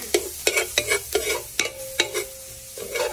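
Garlic frying in a pan with butter added, a series of sharp stirring scrapes and clacks over a soft sizzle, with one sustained tonal hum partway through; close and moderately loud, no talking.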